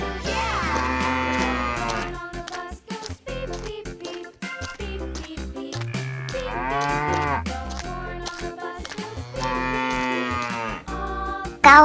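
Toy farm animal cow voice giving several long, loud moos in a row over musical backing.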